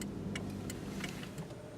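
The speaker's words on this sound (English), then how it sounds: "And the traffic's backed up the other way too." Road traffic idles and rolls at the Trout Gulch and Cathedral intersection in Aptos, giving a continuous low rumble with a few faint ticks over it.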